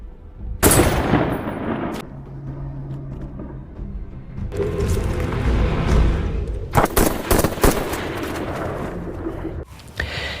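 Gunfire in an action film scene with former soldiers, with sharp bursts of shots and loud chaotic blasts breaking out in several separate volleys between quieter stretches.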